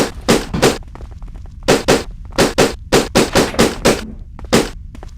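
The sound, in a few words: paintball gunfire from the Die Hard Vendetta video game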